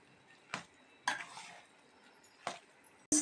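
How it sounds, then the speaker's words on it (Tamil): A spoon stirs semiya adai batter made with roasted gram, rice flour and grated coconut. Four quiet scraping strokes come at uneven intervals, each with a short clink of utensil against the bowl. "நல்லா கலந்து விட்டுக்கலாங்க."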